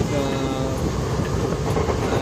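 A passenger train rolls along between Acharapakkam and Tindivanam toward Chennai, heard from inside the carriage as a loud, continuous rumble with rhythmic clickety-clack of the wheels over the rails.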